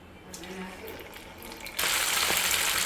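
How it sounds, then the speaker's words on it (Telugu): Chicken pakoda frying in hot oil over a medium flame, a quieter hiss and clatter at first, then a loud, dense sizzle bursting up partway through as pieces go into the oil, continuing steadily. "సో ఇలా అయితే మీడియం ఫ్లేమ్లో పెట్టి ఫ్రై చేసుకోవాలి."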